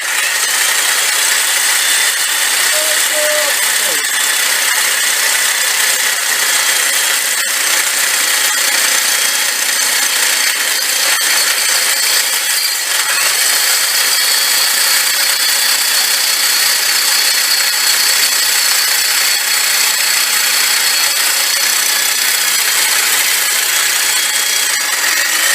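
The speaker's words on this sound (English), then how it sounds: "we could use a handsaw to do this, or we could just use the power saw and get it over with" A power saw runs continuously while cutting wheelchair parts for a wheelchair-bicycle build, a loud, harsh, steady whine and buzz held for the whole stretch with no talk.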